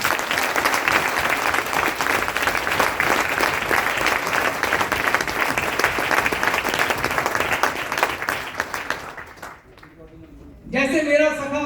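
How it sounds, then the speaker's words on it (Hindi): Loud audience applause in a hotel hall during a motivational speech, dense and sustained for several seconds, then thinning and fading out before a voice begins speaking near the end. "इसके लिए जोरदार तालियां।"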